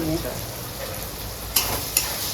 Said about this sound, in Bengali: তাহলে আমি এতে কাঁচা লঙ্কা দিয়ে দিচ্ছি